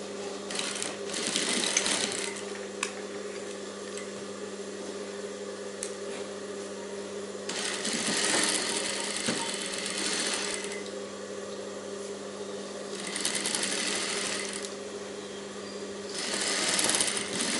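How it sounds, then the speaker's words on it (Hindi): A sewing machine stitches a princess-cut blouse, running in a steady mechanical whir with a low hum underneath and louder stretches of fast stitching every few seconds, with no voices. "दूसरी तरफ भी ऐसे ही सिलाई लगा लेंगे"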